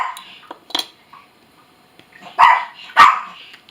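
A puppy named Creamy gives a few sharp, short barks indoors, two loudest near the end, separated by quiet gaps and light clinks.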